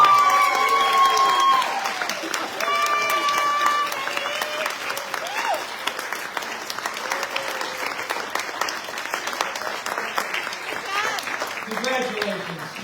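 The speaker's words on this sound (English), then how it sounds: "give them a big round of applause" An audience at a 2024 wall of fame event applauding scholarship recipients, with sustained clapping from a large crowd over nearly thirteen seconds, a few cheers and whistles mixed in.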